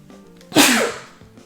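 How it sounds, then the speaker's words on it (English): A single sharp, loud sneeze bursts out after a quick inhale, then fades within a moment. "gotta sneeze"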